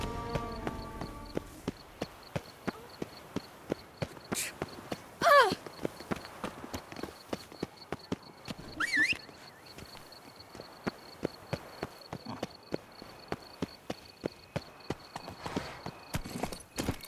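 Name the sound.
horse Roach galloping, video game The Witcher 3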